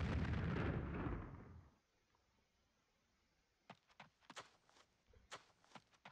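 A grenade blast in the video game Army Men 3D booms loud and full for over a second, then fades into quiet, followed by a run of sharp, brief popping shots.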